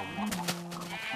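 Blocky sheep in Minecraft give a short nasal bleat, close and fairly clear, with a steady game hum underneath.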